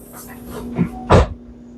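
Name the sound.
door closing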